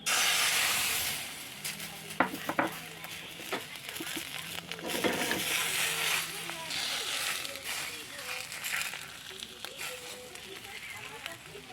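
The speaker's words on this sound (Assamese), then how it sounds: "এইফালে কমকৈ ভাজিছোঁ কণীখিনি দিছোঁ" An egg fries in a hot pan for an egg roll, giving a continuous bright sizzling hiss with a few crackles, heard under intermittent talking.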